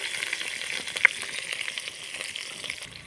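Green chillies frying in hot oil in a pan, a soft, continuous sizzle with small crackling pops and one brief sharper spit, fairly quiet and heard alone.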